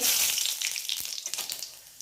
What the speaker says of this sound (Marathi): या कढईमध्ये अगदी थोडंसं एक चमचा तेल टाकलेलं आहे आता टाकते जिरं